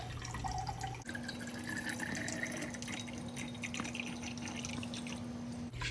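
Reverse osmosis water streams steadily into a container at home, a continuous trickling, splashing pour that runs for several seconds at moderate, close range without talking.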